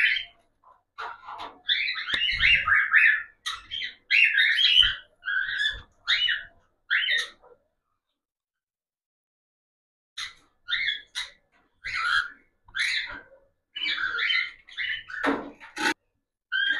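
Pet cockatiels in a cage chirp and squawk in bursts of sharp, close calls, with a quiet pause in the middle before the chattering resumes.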